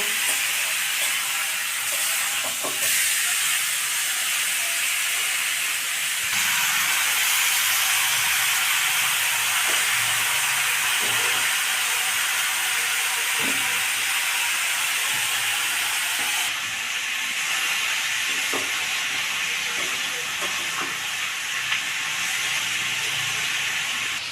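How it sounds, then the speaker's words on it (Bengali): Mutton pieces frying lightly with onions for a homestyle curry, a long, even hiss of sizzling oil that runs steadily throughout, with small scrapes and clicks now and then and no talk. "পেঁয়াজের সঙ্গে মাংসগুলোকে হালকা করে ভেজে নেবো"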